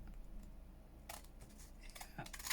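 Scissors snip through a book page in a quiet room: a short burst of crisp cutting sounds, a pause, then a few more quick snips, close and fairly soft.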